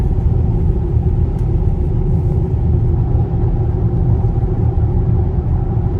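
A 2025 Chevrolet Blazer EV SS electric SUV cruises along a highway leaving Thunder Bay, Canada, giving a steady, loud low rumble of road and tire noise inside the cabin with no talking.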